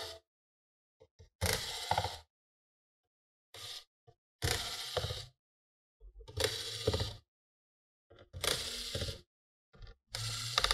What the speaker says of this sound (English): You're gonna remove all the screws that we see on the black cover.